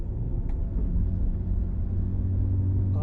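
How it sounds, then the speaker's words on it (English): Steady low exhaust rumble from a BMW E90 on the move, a continuous deep drone with road noise, close and fairly loud throughout, no talking. "what the exhaust sounds like"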